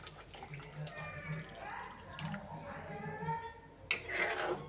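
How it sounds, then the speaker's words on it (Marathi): Water splashes and trickles into a pan of fish curry gravy, a soft close pouring with scraping and clinking utensil sounds, and a faint voice talks over it. "आता घालते पाणी."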